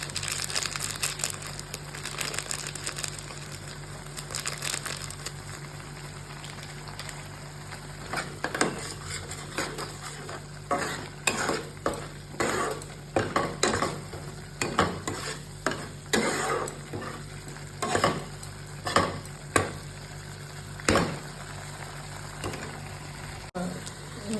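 Meat frying with cumin powder in a pan, a steady close sizzle under repeated scraping strokes of a spoon stirring, growing busier toward the end, with a faint hum throughout.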